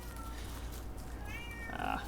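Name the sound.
cat meowing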